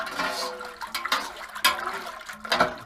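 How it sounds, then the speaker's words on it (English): Malt extract and dextrose dissolved in water get stirred for brewing a Queenslander lager, producing close sloshing and swirling liquid sounds with intermittent splashes, steady and fairly loud. "we'll quickly stir that back up again"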